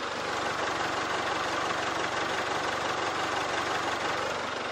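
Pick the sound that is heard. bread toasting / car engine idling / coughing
car engine idling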